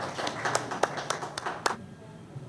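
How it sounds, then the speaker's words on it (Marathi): An audience at a felicitation during a lecture program claps for honoured speakers, giving a scattered round of close, sharp claps that thins out and stops after under two seconds, leaving quiet room tone. "त्यांच्यासाठी जोरदार टाळ्या होत्या"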